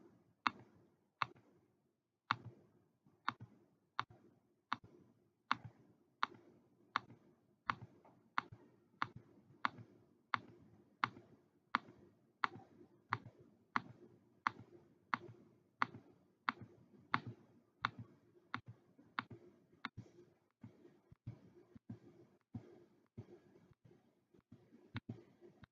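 A computer mouse clicks over and over at a steady, unhurried pace, around thirty sharp, close, quiet clicks in a row against near silence.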